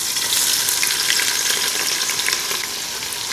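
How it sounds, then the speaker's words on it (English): Red onion frying in hot oil for Pakistani biryani, a dense, steady, loud sizzle that crackles continuously throughout without any voices. "When the onion is getting brown, we will remove it. Now let's put the red onion."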